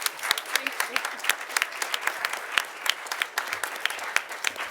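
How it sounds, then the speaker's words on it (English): Audience applause fills a digital tech summit hall after a pitch presentation, with sharp individual claps standing out from a loud, sustained round of clapping. "Great round of applause."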